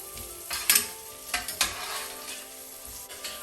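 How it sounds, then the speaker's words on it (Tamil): Mutton chops sauté in a pan with a soft sizzle under a few sharp stirring scrapes of a utensil against the metal, close by and uneven in rhythm. "போட்டு நல்லா வதக்கிக்கோங்க"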